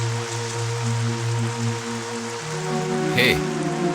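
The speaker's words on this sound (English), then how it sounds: "Dad, it's heavy rain." Heavy rain falls as a steady hiss, partly masked by a loud low drone and musical tones, with a brief sharp burst near the end.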